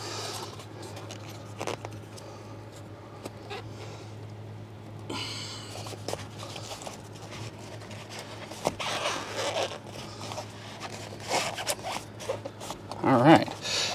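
Armaflex foam pipe insulation on an air-conditioner vapor line is pulled apart along its seam, giving soft tearing, zipper-like rasps and scrapes of varying length. They are close and fairly quiet, with some faint handling noise.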